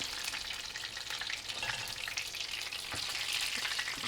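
Fish pieces fry in hot oil street-food style, a dense, continuous crackling sizzle with bright spitting pops, close and steady, stirring or turning noises mixed in, no voices.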